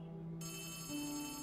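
A telephone rings in the video game Poppy Playtime Chapter 3, a steady electronic ringing tone with sustained harmonic bands that shifts pitch partway through, heard alone and fairly close.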